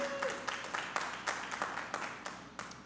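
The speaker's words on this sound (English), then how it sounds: "So please give the PG Church of Christ members a round of applause" Audience at a PG Church of Christ gathering applauds in a steady, moderately loud burst of clapping, dense and continuous for a few seconds with no talking over it.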